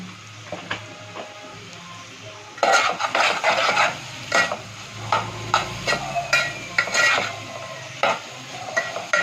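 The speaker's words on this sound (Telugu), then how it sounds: "చక్కగా వేగిద్దాం కొద్దిగా సాల్ట్ వేద్దాం" Snake gourd curry frying in a pan, with a spoon scraping and knocking against the metal in irregular strokes over a soft sizzle. The sound is close and continues for several seconds with no speech.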